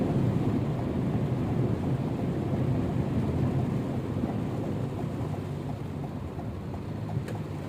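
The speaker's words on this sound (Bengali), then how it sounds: "অতীতে কিন্তু কখনো এরকম এরকম ভাবে হয় নাই বৃষ্টি, এইভাবে এত ঘন বৃষ্টি" Heavy rain lashes flooded Dubai streets in a thunderstorm, a thick continuous roar of downpour with a deep rumbling low end that holds steady, loud and close, with no voices.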